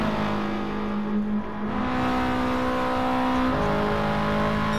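Race car engine in the video game Gran Turismo 4, a sustained loud whine that climbs through the gears with steady revving and shifts, alone with no talk.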